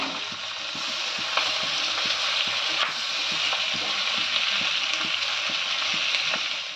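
Onions and capsicum fry in a pan for restaurant-style chili chicken, a steady loud sizzle running throughout with occasional stirring clicks and scrapes.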